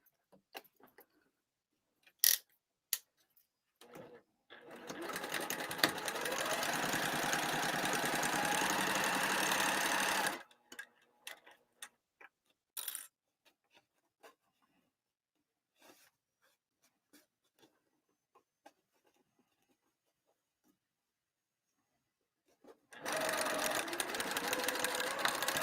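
A sewing machine stitches a quarter-inch lining seam at a 3 to 3.5 stitch length, running in two steady bursts of about five seconds each, with short back-tacks and light handling taps between them.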